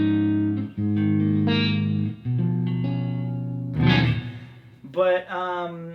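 A 1985 Yamaha SPX90 effects unit pushes a Friedman guitar amp into oversaturation: loud, sustained distorted guitar chords ring with heavy modulation and echo, then cut into shorter, brighter strummed bursts.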